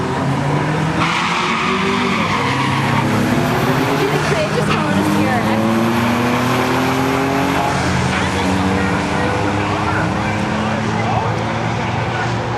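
Cars at an import drag racing event skid and squeal their tires under hard braking, a loud continuous screech with gliding tones over engine roar, while voices talk throughout.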